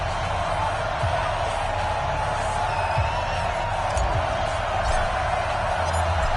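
Stadium crowd at a Buffalo Bills versus Jacksonville Jaguars football video game, a steady loud roar of cheering and murmur filling the whole stretch with no pauses.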